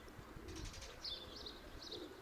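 Pigeons perched on overhead wires give faint coos and a few soft chirps, with a brief flutter of wings, all quiet and distant against a low outdoor background.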